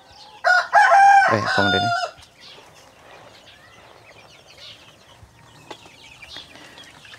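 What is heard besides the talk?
chickens clucking and rooster crowing in backyard farm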